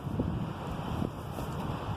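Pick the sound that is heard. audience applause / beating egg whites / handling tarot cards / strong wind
strong wind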